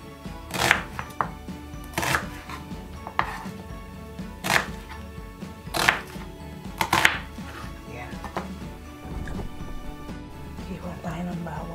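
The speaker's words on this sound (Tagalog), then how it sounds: "Iwa tayong onion." Onion being cut into fairly large pieces on a cutting board, with a series of sharp, well-spaced knife thuds, loud and close, and a voice speaking between some of the strokes.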